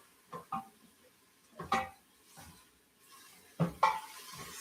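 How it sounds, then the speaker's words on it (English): Food is stirred in a cooking pot, a few scattered scraping clinks of utensil against metal coming in short bursts with quiet pauses between them, close and fairly soft. "so then you stir this"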